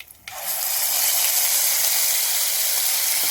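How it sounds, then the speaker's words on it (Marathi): Ground spice paste for a brinjal curry drops into hot oil and bursts into a loud, sustained hissing sizzle that stays strong and close after a sudden onset. "आपण जे वाटण बनवलं होतं ना ते टाकून घेऊ आता तेलात"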